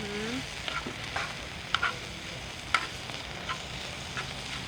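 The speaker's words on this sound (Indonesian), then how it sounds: "Bawang putihnya. Kita tumis aja sampai harum juga." Garlic sautéing in a pan for a chicken tomato pasta sauce: a continuous soft sizzle broken by occasional spatula scrapes and taps, close by, with no one speaking.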